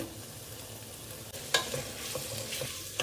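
Frozen chopped green jackfruit pieces stirring and frying in a pan for veg biryani, a soft steady sizzle with scraping stir strokes and a sharper clatter midway, close and moderately quiet with no talking.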